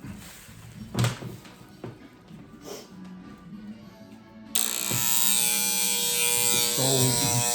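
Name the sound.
battery electric hair clippers trimming hair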